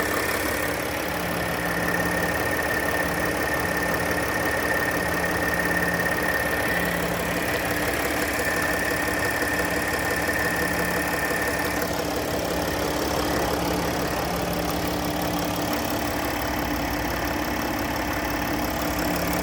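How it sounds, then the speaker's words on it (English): A 2007 Mercedes-Benz ML engine idles steadily at a close range, a constant mechanical hum with a faint high whine running through it. "we're going to listen to the engine idle here a little bit"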